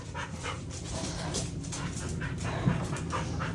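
Dogs whimper and pant steadily inside a van, a close, continuous mix of soft whines and breathy panting with a brief louder yelp near the end.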